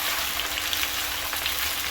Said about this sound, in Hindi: तो यहाँ पर जी ऑयल हो गया है गरम। अब इसमें मैं ये डाल दूँगी भिंडियाँ